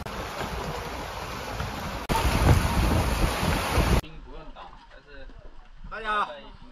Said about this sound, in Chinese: 风暴来了，难搞哦